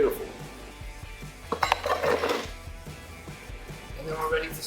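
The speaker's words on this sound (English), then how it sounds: "Next, I'm gonna add in some ice." Ice cubes clink and rattle into an Irish coffee glass in a brief cluster of glassy knocks, close and moderately loud, with a person talking around them.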